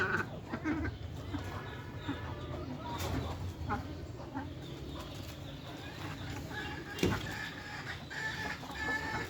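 Laying hens cluck intermittently at close range on a farm, with a goat bleating and other farmyard noise mixed in over a busy background.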